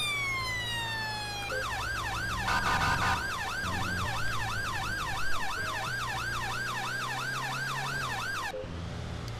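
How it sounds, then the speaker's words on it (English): A UK police car's wailing siren, switched on in a modded police driving game set in a British city, loops steadily and loudly for several seconds over a low engine hum before cutting off abruptly. "Put our sirens on so we can get there a bit quicker."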